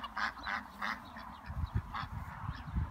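Domestic ducks on a farm on Öland quack in a few short bursts near the microphone, with other fowl calling alongside and low scuffling noise underneath.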